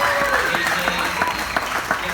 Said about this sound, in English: one more round of applause for all the speakers tonight